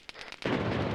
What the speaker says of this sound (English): That's a Zeus cannon.